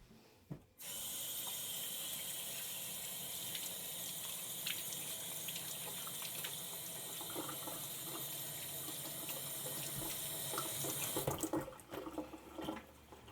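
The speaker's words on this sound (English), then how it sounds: "just rinse off the carrots a bit" Tender carrots get rinsed under a kitchen sink tap: water runs in a steady, close gush for about ten seconds, then shuts off, followed by faint handling clatter.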